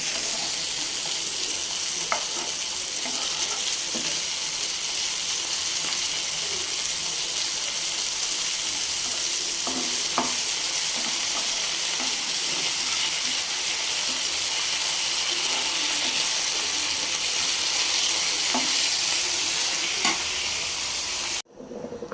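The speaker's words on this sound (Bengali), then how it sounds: "মিষ্টি কুমড়া ভাজি করতেছি, কালি জিরা ফোড়ন দিলাম।" Sweet pumpkin fries in oil with black cumin seeds, giving a constant, close sizzle that runs almost unbroken, with faint stirring clicks now and then and an abrupt stop at the end, with no talking.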